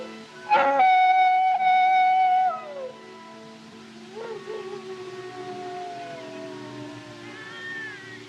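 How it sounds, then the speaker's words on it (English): Coyotes howl at night, long wavering cries that slide downward, one loud and close at first, then fainter overlapping howls trailing off in the distance. "Them coyotes give me the creeps."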